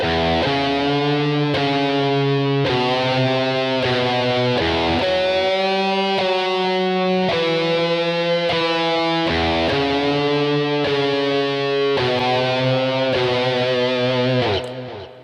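A distorted electric guitar riff plucked on open strings, sustained notes changing every beat or so in a steady repeating pattern, loud and close, ending abruptly.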